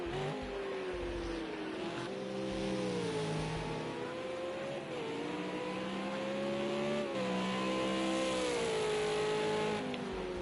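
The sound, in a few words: V8 race car engines on track, from a racing video game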